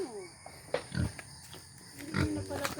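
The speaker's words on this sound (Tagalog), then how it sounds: "Yan yung baboy." A pig grunts outdoors in a rural setting: two or three short, low, rough snorts, fairly close, between quieter stretches of background noise.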